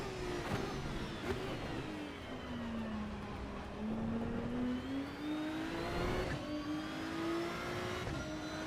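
A racing car engine in Assetto Corsa EVO drones at steady high revs, its pitch dipping and rising gradually as the car drives on, loud and continuous with no gaps.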